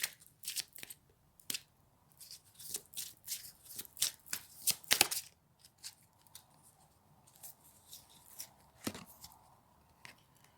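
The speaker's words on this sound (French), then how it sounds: "je vais tirer 2 cartes supplémentaires" Tarot cards are shuffled and drawn by hand, giving crisp riffles, flicks and slaps in quick irregular bursts close by, with no talk.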